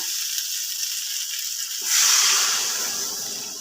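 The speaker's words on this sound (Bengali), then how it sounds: "পরিমাণ মতন জল দিয়ে দিলাম" Water poured into a simmering pan of paneer and poppy-seed curry, a sudden close sizzling hiss and splash that rises sharply midway, then settles into steady bubbling.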